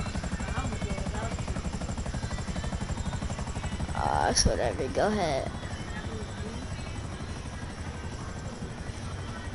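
Helicopter in the video game GTA 5, a steady rotor chop throbbing throughout at moderate level, heard under people talking.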